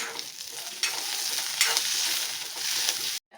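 Onions fry in a hot pan for a horse gram curry with a dense, close hiss and crackle and a few stirring swells. The sound cuts off abruptly just before the end.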